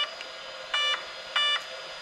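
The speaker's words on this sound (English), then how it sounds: "three beeps." Electronic beeping from an RC car's speed controller on an Arrma Vorteks 4x4: two short, steady multi-tone beeps close together over a faint background hum.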